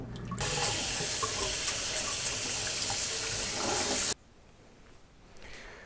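Running water from a sink tap while salmon is scaled under the stream, a loud, steady gushing hiss that stops abruptly near the end, leaving quiet room sound.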